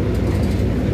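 A passenger train on the journey to Gaya pulls away and runs along, filling the carriage with a steady, loud, dense low rumble and rattle of wheels on track, with no talk.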